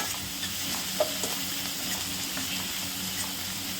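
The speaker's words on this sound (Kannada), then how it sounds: "ಇದು ಟೊಮೆಟೊ ಚೆನ್ನಾಗಿ ಫ್ರೈ ಆಗಲಿ" Tomatoes fry in a pan for a brinjal masala gravy, a steady broadband sizzle with soft stirring scrapes and a small clink near the start, close and moderately loud with no talking.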